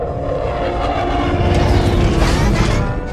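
A fighter jet in the film Bumblebee roars past in a loud, steady engine rush that swells and sweeps across, heard alone without talk.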